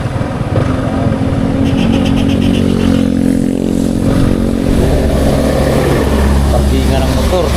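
Motorcycles idle and rumble at a hospital motorbike parking area in Western Batangas, their engines loud and close in a continuous drone with revving swells, under a voice.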